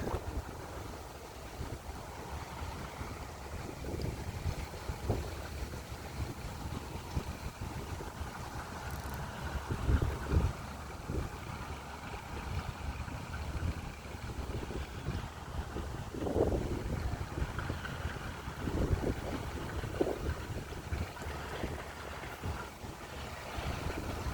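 Strong wind buffets the microphone at a fishing pond, a continuous low rumble with irregular gusts and thumps that rise and fall over a long stretch, with no talk over it.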